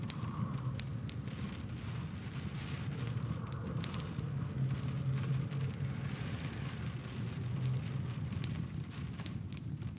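Steady rain falls through a forest, a dense constant patter with occasional sharper drips and a soft low rumble of wind, continuous and fairly close with no voices.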